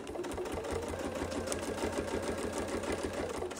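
A sewing machine runs steadily as it stitches a quilt guided by a Westalee Mini Baptist Fan ruler template, giving a continuous close-up whir with a fast, even stitching rhythm throughout.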